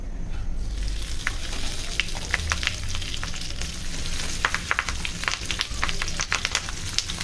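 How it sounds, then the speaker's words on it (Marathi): Surmai fish fries in hot coconut oil, giving a steady crackling sizzle close by with sharp spitting pops scattered throughout, no voices present. "कोकोनट ऑइलमध्ये आपण फ्राय करणार आहोत."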